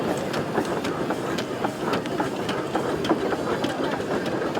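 An 1888 steam traction engine, Sir John Williams, moving at a steam gathering, with steady rhythmic clanking and rolling mechanical noise close by under general outdoor bustle.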